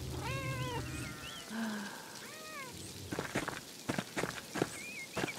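A cat in the video game Pentiment meows several times in quick succession, fairly clear and close, followed by soft rhythmic footsteps and one more faint meow at the end.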